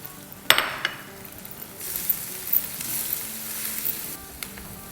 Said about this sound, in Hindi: तो ये सब चला जाएगा प्याज में।